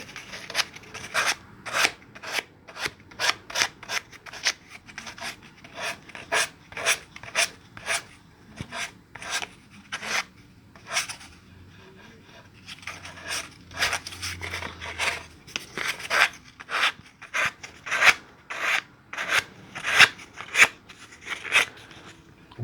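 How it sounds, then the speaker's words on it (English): Fresh sandpaper drawn in single one-direction strokes over a guitar body during finish sanding: a steady series of close, dry rasping scrapes, about one per second, alone with no talk. "I found sometimes it's better just to go one direction, one stroke at a time when you're doing finish work on sanding."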